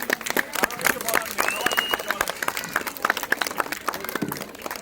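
An audience at a college play performance applauds, sharp individual claps close by over a broader crowd of clapping and murmuring voices, with some cheering.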